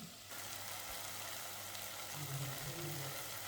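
Tomatoes sauté in a pan as the base for Maggi noodles with an Indian touch, giving a steady, soft frying hiss that runs unbroken throughout with no voices.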